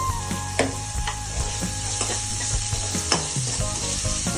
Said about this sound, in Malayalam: നന്നായിട്ടൊന്ന് വഴണ്ട് വരട്ടെ.